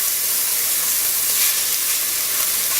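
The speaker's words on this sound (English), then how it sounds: "Garlic saute, cook a little bit." Garlic sautéing in a hot soup pot over a low flame gives a steady, close, even sizzling hiss that holds for the whole stretch with no talk over it.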